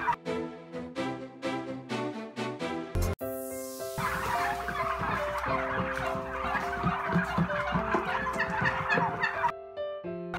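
Domestic turkeys at a poultry farm gobble and cluck, with distinct repeated calls at first, then a dense overlapping chorus of many birds with music playing under it.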